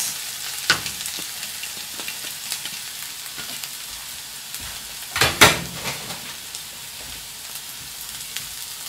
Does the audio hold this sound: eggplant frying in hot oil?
yes